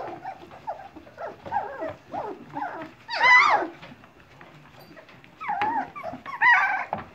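Several 2.5-week-old puppies whimper and whine in high, wavering cries, bursts of yelping rising and fading close by.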